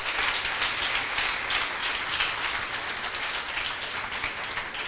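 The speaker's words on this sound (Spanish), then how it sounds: "Den un aplauso fuerte al Señor." A church congregation applauds loudly and continuously, a dense wash of clapping with no pauses and no voices over it.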